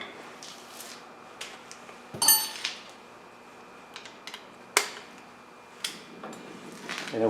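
A bolt is screwed into the front brake rotor of a 2007 Toyota Camry, heard as sparse, close metallic clinks and taps spread over quiet workshop air.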